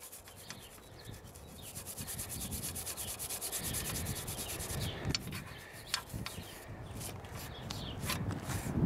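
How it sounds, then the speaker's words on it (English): Close, steady scrubbing of a brush rubbing rust off the metal surface of a StoveTec rocket stove, continuous back-and-forth strokes with a few short scraping knocks near the end. "brush that right on off"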